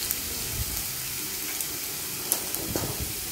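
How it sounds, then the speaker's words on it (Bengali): Chopped garlic and ginger frying in hot white oil, a faint steady sizzle with soft crackles and pops close by. "তেল গরম হয়ে যাওয়ার পর কুচি কুচি করে কেটে রাখা রসুন কুচি আর আদা কুচি দিয়ে দিলাম"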